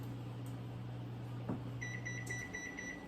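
A home oven beeps to signal it has finished preheating: a short run of faint, high electronic beeps over a low appliance hum and quiet room noise, with no one talking.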